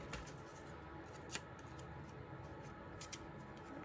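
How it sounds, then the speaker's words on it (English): Scissors trim paper for a scrapbook layout, with a few quiet, crisp snips spaced irregularly over a soft room background. "I'm just trying to trim this down where it will fit more snugly up against my photo"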